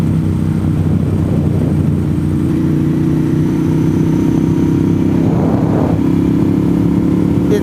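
A motorcycle engine drones steadily at a constant, loud level while riding on a rough road, with a low rumbling hum and no speech.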